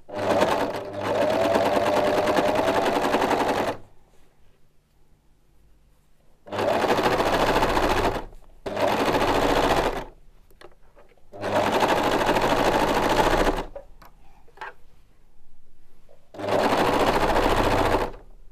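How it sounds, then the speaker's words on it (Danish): Sewing machine stitching fabric for a Minikrea 50600 elephant hat, running alone in five loud, steady bursts of rapid mechanical rattling separated by short quiet pauses. "og så er jeg klar til at sy"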